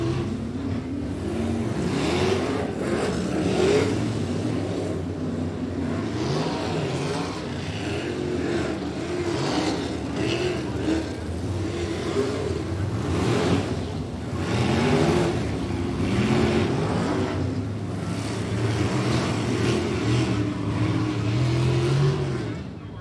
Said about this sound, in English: So in this third heat race, you have Mitch Wismiller with the 1 heat race win on the season.